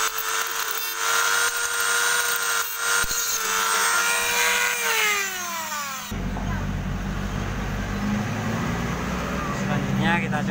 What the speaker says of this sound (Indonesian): Selanjutnya kita ratakan pakai mini grindernya